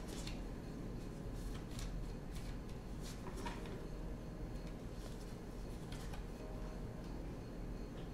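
Brisk papery riffling of a tarot card deck being shuffled, several quick bursts close by with soft handling noises between, no voices.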